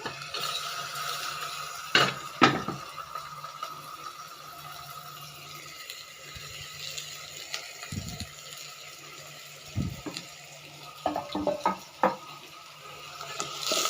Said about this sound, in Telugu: టమాటా ముక్కలు వేసి ఒక ఐదు నిమిషాలు వేయించుకొని